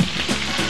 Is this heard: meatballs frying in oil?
yes